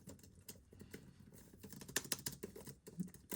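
Keys clatter in quick, uneven bursts as someone types on an old Hewlett Packard laptop keyboard, the clicks fairly close and light with no voice over them.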